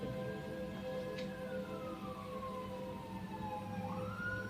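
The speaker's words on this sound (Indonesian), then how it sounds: "Sirene." A siren wails with a slowly falling, then rising pitch, heard at a distance over a steady background hum.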